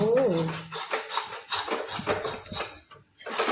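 A potato mixture being stirred in a pan over a gas flame, with clattering scrapes and knocks of a utensil against metal, partly under talk.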